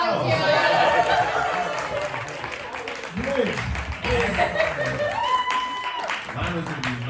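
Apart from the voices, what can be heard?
applause from the audience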